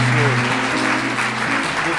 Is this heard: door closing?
no